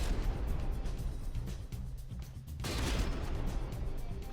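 Explosions and gunfire from warships battling in the naval combat game From the Depths, heard as a dense, continuous roar of blasts and firing with a brief lull before the barrage swells again.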